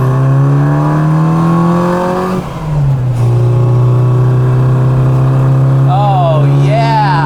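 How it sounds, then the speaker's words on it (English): A classic Mini Cooper fitted with Lotus-inspired seats, its engine revving loud and close as it accelerates hard. The pitch climbs, drops at a gearshift, then climbs again, with a faint whistle rising near the end. "Damn, this car is fast."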